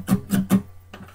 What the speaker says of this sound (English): So if you just mute the strings,